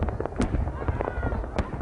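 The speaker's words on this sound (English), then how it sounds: "An extravagance of fireworks entertains the chosen few." Fireworks burst over Pyongyang at the great leader's birthday celebration, sharp cracks and thuds popping irregularly at a distance beneath a narrating voice.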